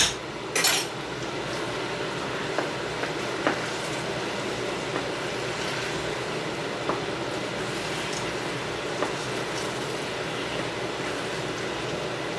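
Utensils clink and scrape against a bowl while ingredients for shepherd's pie are mixed, a steady run of small metallic taps and rattles over continuous kitchen noise, with no talking.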